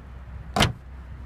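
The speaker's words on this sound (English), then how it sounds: "Powered window controls" A single brief electric window motor whir inside a 2016 Lexus IS 300 AWD F Sport, a short burst lasting under a quarter second against a quiet cabin.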